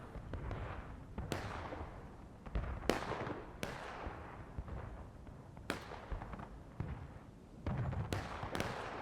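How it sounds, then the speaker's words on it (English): Booming artillery fire in a large video game battle, with repeated heavy blasts at irregular intervals over a constant rumbling din of distant combat. "Underwhelming artillery from the Union."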